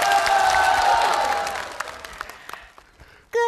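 An audience applauds on a comedy show stage, the clapping dense at first and then thinning into scattered claps over a few seconds before a musical note breaks in.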